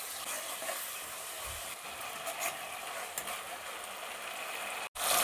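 A tablespoon of garlic sizzles in hot oil with browned onions in a pan for chicken gravy, a steady close crackle with soft scraping stirs and a brief gap near the end.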